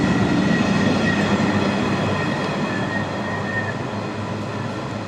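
A long freight train hauling a rake of wagons from an RMC yard toward Peak Forest Cemex sidings rumbles past close by, a steady heavy rolling roar with faint wheel squeal, gradually easing.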